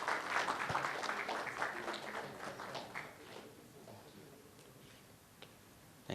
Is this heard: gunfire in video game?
no